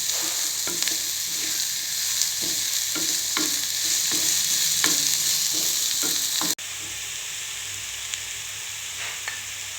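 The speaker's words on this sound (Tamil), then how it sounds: "இப்போ வெங்காயம் வந்து நல்லா கலர் சேஞ்ச் ஆகி வர வரைக்கும் நல்லா வதக்கி விட்டுக்கலாம்." Onions sizzle steadily in a hot pan for mushroom sukka while a spoon stirs them, scraping in a loose rhythm of repeated strokes, close and loud, then the frying continues more quietly.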